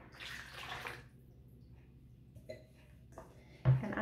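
Liquid being poured into a mixing bowl while making vegan Paris buns, a short gushing splash for about a second, then quiet kitchen handling noises and a louder clunk near the end.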